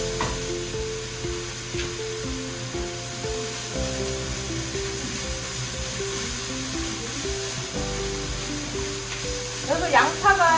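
Onions stir-fried in a pan give a steady, moderate sizzle that runs the whole time beneath continuous background music, with a brief clatter of stirring near the end.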